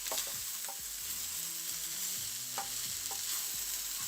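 Mazorcada with soy sauce stirred in a frying pan, a faint continuous sizzle with a few light scrapes and taps of the utensil, low in level and without speech.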